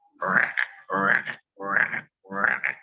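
A voice imitates a frog with four evenly spaced raspy croaks, each a short throaty burst with a brief pause between, loud and close with no other sound.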